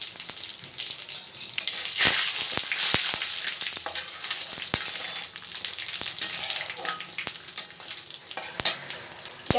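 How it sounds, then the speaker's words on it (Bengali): Bay leaves, whole cumin seeds and split dried red chillies sizzle and crackle in hot white oil, a bright continuous frying hiss with sharp pops and stirring clicks, close and alone. "এর মধ্যে আমি ফোড়নে দিয়ে দেবো ছোট সাইজের 3টে তেজপাতা, আর দেব গোটা জিরে, আর 2-3টে শুকনো লঙ্কা"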